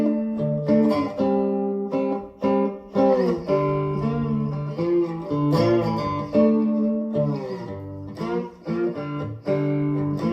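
A cigar box guitar plucked on its strings plays a run of single notes and short phrases in a steady rhythm, moderately loud and close, with no talking.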